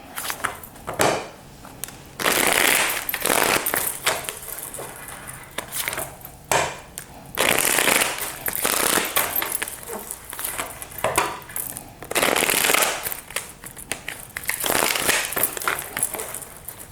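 Tarot cards being shuffled by hand, bursts of crisp riffling and slapping repeating in irregular rounds, close and fairly quiet, with brief pauses between shuffles.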